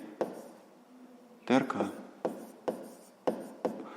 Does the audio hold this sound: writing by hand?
yes